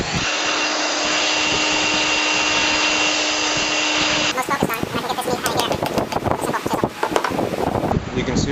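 A handheld wood router cuts a deep mortise, its steady high whine running loud alone before turning choppier and rougher as the bit bites into the wood.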